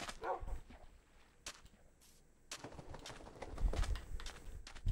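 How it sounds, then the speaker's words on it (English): Dogs barking in Minecraft survival mode: several short barks scattered through the clip, mixed with footsteps and other game noises at moderate loudness. "There's so many dogs."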